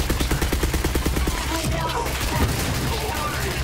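A submachine gun fires in the video game Borderlands 3 as a rapid, loud, rattling burst of shots that then gives way to clattering impacts and crashes amid game noise.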